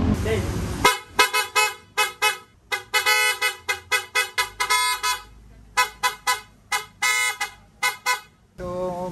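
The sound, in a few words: loud Piaa dual car horn honking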